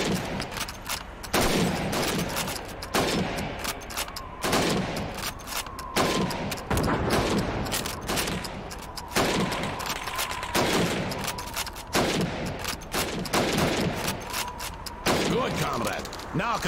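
Rifle gunfire in the Call of Duty 2 Red Army training mission as helmets are shot, loud repeated bursts and single shots spread across the clip with background game sounds and occasional voices.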